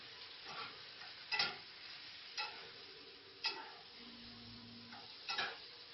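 Tongs clatter and scrape against a pan as food is stirred, with several sharp metallic clinks spaced every second or two over a steady frying sizzle.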